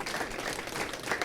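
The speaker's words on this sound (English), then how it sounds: "Clap your hands if you did." A comedy club audience in Seattle claps, producing a quiet, brief patter of hands that stays dense and even without cheering or voices on top.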